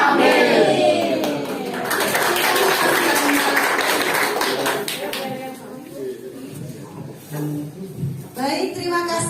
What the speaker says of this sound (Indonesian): Tepuk tangan sekali lagi untuk kelompok 4 atas presentasinya